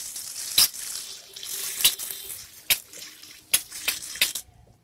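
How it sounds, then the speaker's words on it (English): Water poured onto a repotted adenium in its pot: a steady broadband splashing wash with several sharper splashes and clicks at irregular intervals, close and moderately loud, ending abruptly. "now let's water it"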